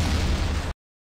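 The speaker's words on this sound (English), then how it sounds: "Oh, is he throwing a grenade?" A grenade blast in the Half-Life mod Poke646, one loud broadband burst filling the clip before cutting off abruptly.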